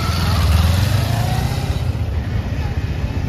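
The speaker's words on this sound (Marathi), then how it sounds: "भावांनो कावासाकी 1000 cc ची गाडी आहे भावांनो" A Kawasaki 1000 cc motorcycle with its stock exhaust, a loud, close engine drone that swells early and then holds a throbbing idle-to-cruise rumble, with a voice talking over it.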